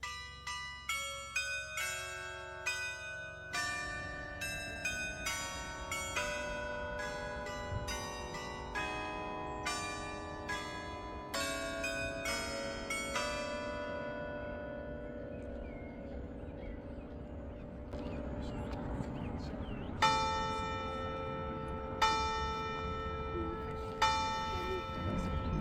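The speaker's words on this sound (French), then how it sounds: "Le carillon automatisé composé de 24 cloches." An automated carillon of 24 bells at the Notre-Dame de Grâce chapel in Honfleur rings out a melody, bright struck tones following one another steadily with lingering resonance, some louder strikes near the end.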